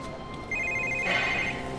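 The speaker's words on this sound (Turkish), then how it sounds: "Telefonunuz çalıyor." A telephone rings indoors with a short electronic trill that grows louder partway through, a single brief burst of ringing with no talk over it.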